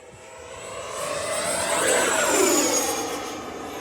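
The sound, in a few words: FMS Super Scout RC model airplane flying at full throttle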